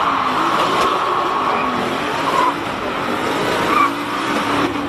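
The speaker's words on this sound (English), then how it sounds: "James Temple just trying to get some heat into the rear tyres" A hill climb race car, driven by James Temple at the Simola Hill Climb, spins its rear tyres in a steady, loud engine roar with squealing tyre scrub and brief surges of revs throughout.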